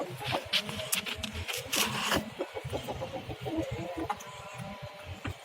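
A desi rooster warns another rooster away from his hens with a close run of sharp clucks and calls, a louder flurry in the first two seconds followed by choppier, rhythmic clucking.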